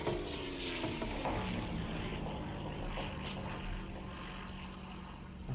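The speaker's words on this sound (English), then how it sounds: "That is definitely an aircraft engine." A World War II aircraft engine in the submarine game Silent Hunter III drones steadily with propeller hum, the pitch sliding downward as it passes, under a broad rumble of sea and wind.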